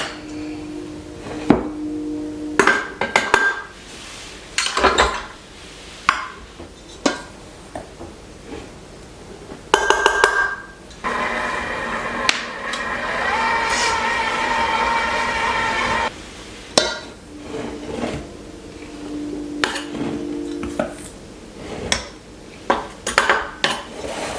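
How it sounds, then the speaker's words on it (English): Spoon clinking and scraping against a bowl while stirring a Christmas goodies mixture, with a run of sharp close knocks and taps and a steadier stretch of mixing in the middle, no talking. "I'm just gonna kind of stir this all together."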